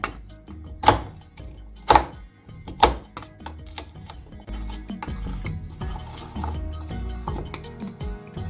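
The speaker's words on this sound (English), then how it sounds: "So the first step, I'm gonna prepare garlic paste." Garlic paste for a chicken shawarma marinade is prepared in a kitchen: three sharp clinks and thunks early on, then softer scraping, stirring and utensil clatter, with no talking.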